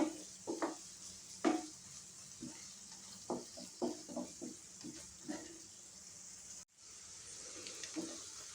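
Three slit green chillies fry lightly in a pan for Mughlai paneer, a soft sizzle under a series of sharp stirring scrapes and clinks, fairly quiet, with no voices.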